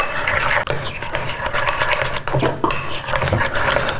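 A utensil stirring mayonnaise mixed with honey and curry powder in a bowl: loud, continuous, close scraping and clinking strokes with a steady rhythm.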